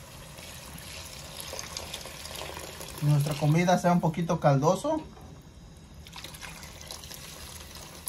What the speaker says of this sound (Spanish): en este punto voy a poner agua